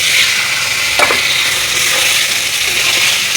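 Chicken sizzles steadily while frying in a pan for a chicken and potato curry, with a spoon scraping through it as it is stirred. A brief louder clatter comes about a second in, and the frying hiss runs close and continuous throughout.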